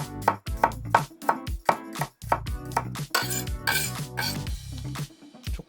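A knife thinly slices garlic on a cutting board, a quick series of crisp, close taps with brief clusters of faster cuts and short pauses, no talking.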